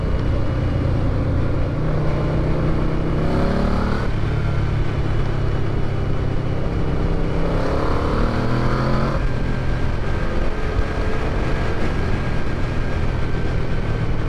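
A Yamaha VMAX V4 muscle bike engine revs and accelerates loudly and close by, with rising engine tones sweeping upward in two surges over steady mechanical roar, no talking.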